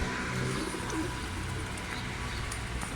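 Soft, low pigeon coos repeat a few times against a quiet outdoor terrace background, with faint chirps nearby.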